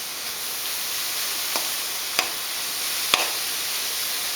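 Grated carrot cooking in a pan over a low flame, a steady soft sizzle throughout, with a few faint clicks from stirring.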